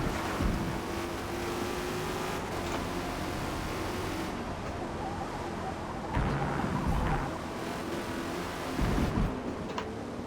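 Holden Torana A9X racing around Brands Hatch in Forza Motorsport, its torquey engine droning steadily with rushing road and wind noise, swelling briefly a few times as the revs shift.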